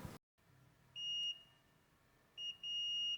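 A multimeter in continuity-test mode gives two steady high electronic beeps, the first about half a second long and the second longer and briefly broken, clear against a quiet background.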